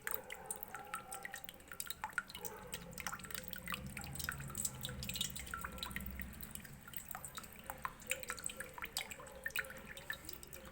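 Coconut water drips and trickles from an opened tender coconut into a container, a steady patter of close, rapid drops running continuously without talk.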